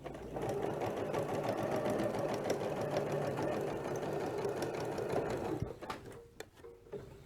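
A sewing machine runs steadily, stitching quilt binding up toward a corner, loud and continuous for about five seconds before stopping, followed by light handling clicks.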